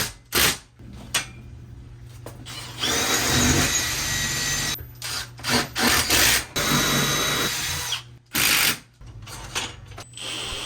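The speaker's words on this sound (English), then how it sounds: "Tesla recommends to use 18 to 20 volts drills, but M12 drill from Milwaukee works just fine." Milwaukee M12 drill driving fasteners while a Tesla Powerwall 3 wall mount is installed, heard as repeated close bursts of whirring and ratcheting separated by short pauses, with a steady low hum underneath.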